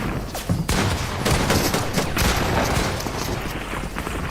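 Gunfire rings out in a Fortnite match, a dense run of overlapping shots and bangs that carries on loudly and almost without pause, more like a chaotic firefight than isolated sniper cracks.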